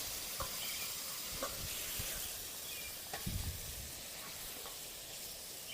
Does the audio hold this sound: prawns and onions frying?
yes